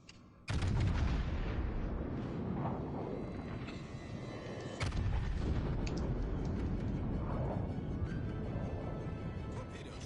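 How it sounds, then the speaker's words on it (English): Torpedo hits in World of Warships: Legends arrive as a sudden heavy blast followed by a long rumbling roar, then a second big boom partway through. Loud and dense, with faint game sounds underneath. "That's the torpedoes"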